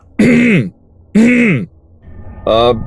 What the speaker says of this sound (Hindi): गला साफ किया